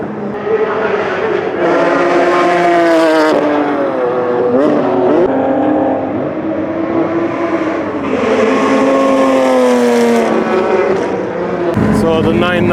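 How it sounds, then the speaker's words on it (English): Porsche 991 Cup race cars warm up their transmissions and rear ends in a Japanese race series pit lane, their loud, close engines revving up and down in repeated rising and falling sweeps. "the 991 Cup cars are warming up the transmission and rear end"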